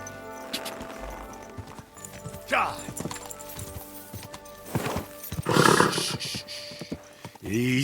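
Horse hooves clip-clopping in the medieval action game Kingdom Come: Deliverance II, with scattered hoof clatter, a whinny-like burst and other game sounds mixed in at moderate loudness.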